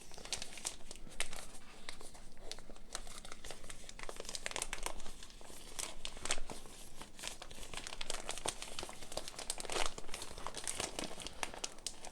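Stiff plastic packaging around a Bruder eye compress crinkles and crackles continuously up close as it is worked open, with occasional tearing sounds and no speech.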